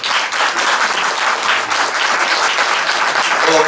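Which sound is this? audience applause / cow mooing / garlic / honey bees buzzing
audience applause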